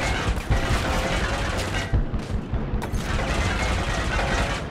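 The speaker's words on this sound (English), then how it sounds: "Who is shooting me?" Gunfire in the video game Far Cry 6, continuous rapid automatic shots with heavy booms layered over one another, loud and sustained for several seconds.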